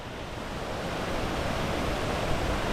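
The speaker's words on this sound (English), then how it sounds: "So this is the first waterfall here" Owia waterfall on St. Vincent roars as a steady broadband rush of falling water, loud and unbroken throughout with no voices.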